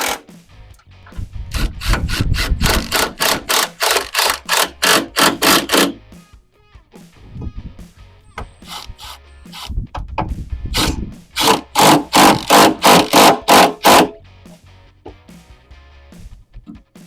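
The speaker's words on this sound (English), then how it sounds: "Let's screw it down. Get a couple of screws in here to hold it." Power drill driving screws to fasten a Rugged Ridge XHD snorkel and side panel onto a Jeep, in two long runs of rapid ratcheting bursts, close and loud, separated by a short pause with small clicks and handling noise.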